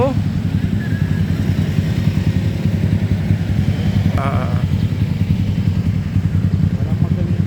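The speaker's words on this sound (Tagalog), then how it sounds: "Puro motor makakasalubong mo eh." A motorcycle engine drones steadily during a road ride, a continuous close mid-pitched hum with faint voices over it.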